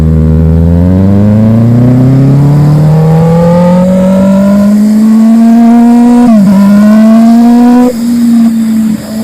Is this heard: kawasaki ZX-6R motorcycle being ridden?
yes